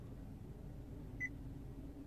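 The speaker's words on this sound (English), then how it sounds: "After the beep, say a climate control command." A 2017 Honda CR-V Touring's voice command system sounds one short, clear electronic beep at mid-clip, a brief tonal chirp over a steady low cabin hum.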